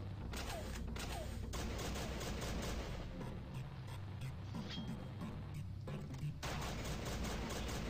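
Shotgun blasts and a dense clatter of gunfire against a horde of zombies in Madness Project Nexus, loud and continuous with mechanical clicks over a steady game backdrop.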